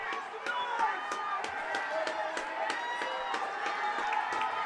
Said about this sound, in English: the crowd is starting to make some noise